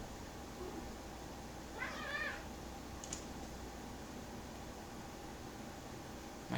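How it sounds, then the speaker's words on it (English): Pet cats playing with each other let out a faint, short meow roughly two seconds in, with a tiny squeak soon after, over a steady hiss of background noise. "My cats are playing with each other"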